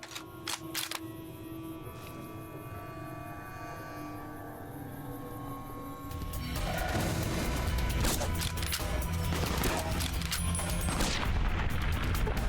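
Small bombs go off in the video game Fallout New Vegas, a run of sharp cracks and bursts that grows denser and louder halfway through, over continuous game background noise.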